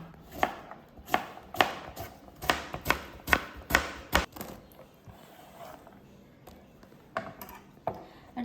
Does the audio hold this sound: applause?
no